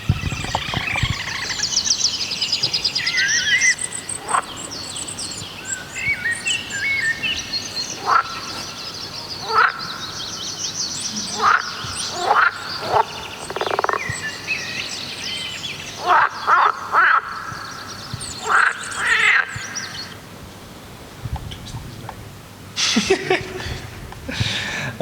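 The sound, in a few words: field recording of a still lake, birds and frogs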